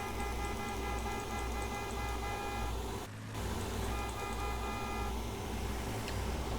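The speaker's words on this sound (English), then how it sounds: "We're just gonna spam honk." Vehicle horn in the video game Ravenfield held and honked repeatedly, a steady blaring tone broken by a brief gap, over a continuous engine drone.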